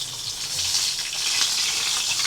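Samyang omelette sizzles and fries in a pan, a steady crackling hiss that stays loud and close throughout, with no voices over it.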